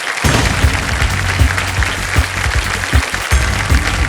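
Studio audience on a quiz show set clapping loudly and steadily, a dense close wash of applause that carries on for several seconds without any talking.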